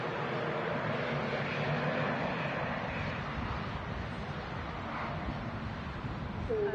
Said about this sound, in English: Goes a Ryanair 737-800.